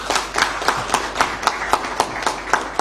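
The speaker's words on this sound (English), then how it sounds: "Can we clap hands for them, please?" Hands clap in a steady, evenly spaced rhythm, about a dozen distinct claps within a few seconds, as an audience at a CAF press conference about AFCON responds.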